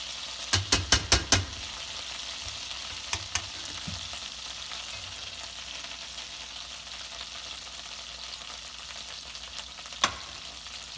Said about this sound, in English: So butter's in the pot, heating up pretty good.